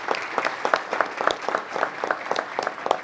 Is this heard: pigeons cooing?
no